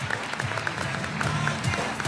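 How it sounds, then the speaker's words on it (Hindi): Applause from a studio audience welcoming panel guests on a Pakistani cricket talk show, a steady dense patter of clapping lasting a couple of seconds. "बहुत सारी तालियां बजा दें"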